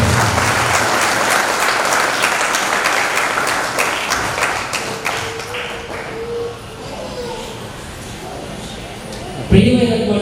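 Congregation at a priestly ordination in Proddatur breaks into loud, sustained applause, a dense wash of clapping that slowly thins toward the end, with a voice speaking faintly over it near the close.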